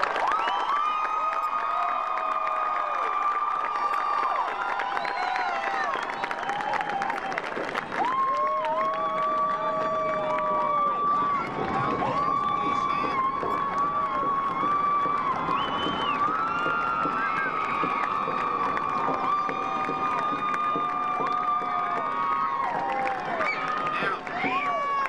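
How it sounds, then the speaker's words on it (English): A crowd at a high school graduation cheers, whoops and claps for the class of 2006: a sustained roar of shouting voices and applause, loud and continuous throughout. "I'd like to recognize the class of 2006 with a round of applause"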